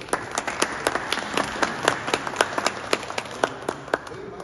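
Applause from an audience at an honorary doctorate ceremony, made of scattered distinct claps in a loose irregular rhythm rather than a dense roar, fairly close, with a voice briefly audible.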